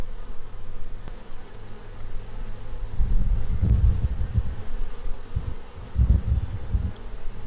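Bees buzzing in a steady close drone over soft background hiss, swelling louder around the middle and again near the end as insects pass near.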